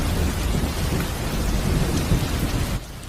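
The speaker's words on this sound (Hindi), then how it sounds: "उसके घर के बाहर बहुत जोर की बारिश हो रही थी" Heavy rain pouring down with rolling thunder, a dense, steady roar of rainfall and low rumbling throughout, dropping off abruptly near the end.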